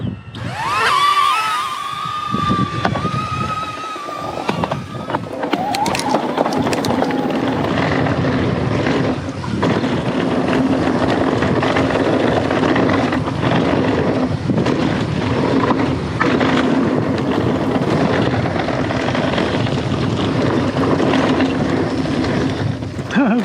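A small camera drone flies in cycling follow mode over a dusty mountain trail near Mt Hotham. A brief high whine at the start gives way to a steady, close propeller buzz that holds for the rest of the clip.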